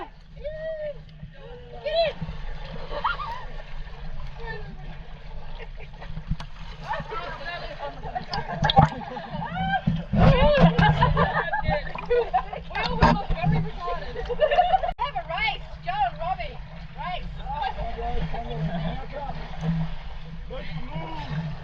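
People splash about while taking a quick dip in clear river water along a remote outback track on Cape York. Scattered splashes and sloshing come and go under almost constant chatter and laughing voices nearby.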